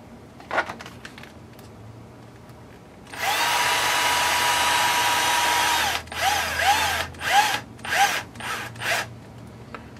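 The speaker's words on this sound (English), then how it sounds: "Let's go ahead and put a screw in there." A power screwdriver drives a screw into the sway bar holder of an Axial Yeti RC car: a steady close whir for a few seconds, then several short rhythmic bursts of the motor, with no voices.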